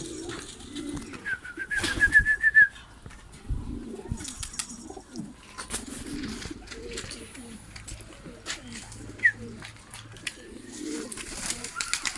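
Pigeons coo softly near their nest in a repeating low rhythm, close by, with a few sharp chirps, some wing rustling and scattered background clatter.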